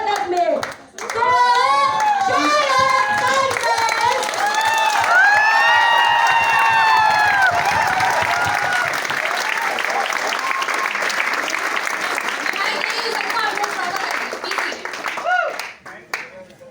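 Loud applause and cheering from a crowd at a corporate event in Lucknow, with high whoops and shouts rising over steady clapping that swells and then fades out near the end.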